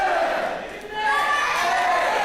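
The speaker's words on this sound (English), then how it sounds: "The crowd's counting with him." A wrestling crowd at a live Australian show chants loudly in unison, counting along with the referee. The massed voices rise and swell in a near, steady roar.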